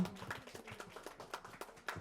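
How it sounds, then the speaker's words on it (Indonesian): Audience clapping at a seminar, a brief patter of hands at moderate distance, uneven and fairly soft, lasting about two seconds. "tepuk tangan untuk kita semua"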